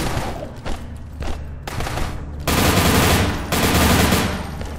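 Rapid automatic gunfire from a gun in the video game INCISION, loud bursts of shots separated by brief pauses, the later bursts longer and denser, with no talk.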